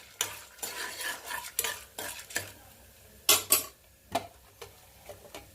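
Urad dal frying in a pan while a spoon stirs and scrapes it, giving a string of clattering metal strokes in uneven bursts over a faint sizzle, close and clear, with no voices.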